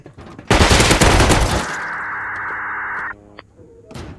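Explosive-ammo gunfire in the survival game Rust: a loud, dense burst of rapid shots for about a second, then a sustained ringing tone, with a few scattered pops near the end.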